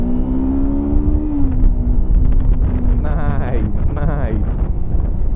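A Kawasaki Versys-X 300 dual-cylinder adventure motorcycle accelerates on a test ride, its engine tone rising smoothly under heavy wind rush while a rider's voice talks over it.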